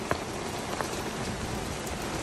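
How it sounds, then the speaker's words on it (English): Steady rain falls right after a hailstorm, a dense, even hiss of drops on a patio and surfaces nearby, with a few sharper individual patters. "Just turned to rain now"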